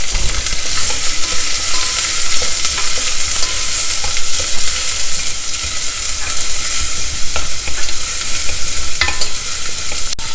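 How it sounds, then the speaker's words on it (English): Sliced garlic and chopped onion stir-fry in a pan with a loud, continuous sizzle, and a spatula scrapes and clicks at irregular moments. No one speaks. "Stir fry it till the onions become"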